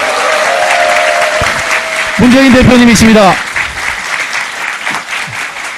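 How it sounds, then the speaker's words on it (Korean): Loud audience applause and crowd noise fill a political talk concert hall as speakers are welcomed onto the stage, with an announcer introducing them over the clapping. "큰 박수로 맞이해 주십시오"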